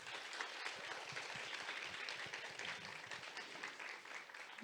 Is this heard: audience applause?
yes